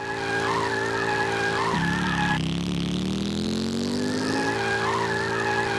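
A car does a tire burnout in All-Star Fruit Racing, its engine droning steadily while a squealing, rising whine swells in the middle and then settles back to the idle hum.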